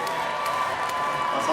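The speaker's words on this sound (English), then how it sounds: "A round of applause for Pakistan." A large audience claps and cheers at a science fair opening ceremony, a steady, continuous crowd roar of applause with voices mixed in and no break in sound.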